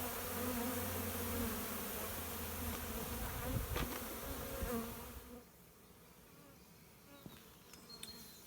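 Honey bees swarm around hives at an apiary, a dense close buzzing that fills the first half and then thins to a quieter, more distant hum with occasional single bees passing by.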